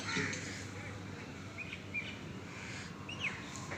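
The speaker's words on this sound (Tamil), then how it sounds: "காலையில் இங்கே பறவைகள் சத்தமாக தான் இருக்கும்" Morning birdsong outdoors near trees, a few short chirps and calls rising over a steady low background hum, fairly faint and spaced out rather than a loud chorus.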